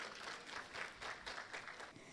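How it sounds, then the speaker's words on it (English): An audience at a small-business workshop claps for themselves, a steady, moderately loud patter of many hands continuing throughout. "Can we clap for ourselves?"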